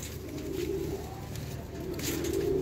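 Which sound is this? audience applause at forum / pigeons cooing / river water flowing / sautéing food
pigeons cooing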